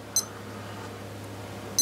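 Alarm of a Casio F-91W digital watch giving short, thin electronic beeps, one near the start and one near the end, close and clear over a quiet room hum.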